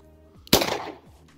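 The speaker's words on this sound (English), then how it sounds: "you're gonna draw and fire two rounds into the target" An M9 pistol fired on a quick-draw drill, a single sharp, loud report with a short ringing decay, close by.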